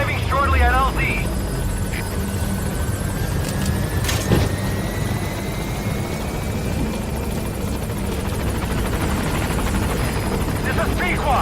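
A support helicopter in Metal Gear Solid V arriving at a landing zone, its steady rotor drone loud and continuous throughout, with faint game radio tones and effects layered over it.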